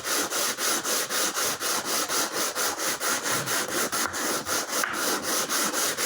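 A wooden violin bass bar is rubbed flat against an abrasive surface in quick, even back-and-forth strokes, about four per second, close and clear with no talking.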